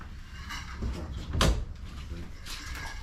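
Car doors on a 1968 Chevrolet Impala open or close with a single muffled thump near the middle, set against a low rumbling background with faint voices around it.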